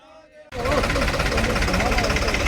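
Farmers' tractor engines rumble loudly and steadily after a brief moment of speech, a dense, continuous low drone with rattling knocks, close by.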